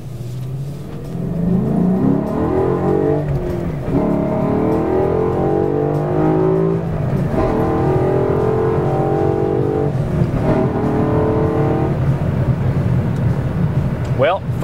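A 5.0 Mustang fitted with an AFE cold air intake pulls hard on the road, its engine loud and steady through several rising gear pulls, with a voice talking over the engine noise.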